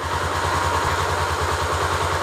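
Honda Tornado XR 250 motorcycle engine idling steadily close by, a low rhythmic thumping with some mechanical clatter, continuous and loud with no talk over it.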